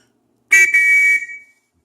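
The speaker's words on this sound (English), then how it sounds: "I'd always start the song off with this, which is an actual real conductor's whistle." A genuine train conductor's whistle gives one shrill, steady blast lasting under a second, loud and close, with a brief stutter at the start and nothing else around it.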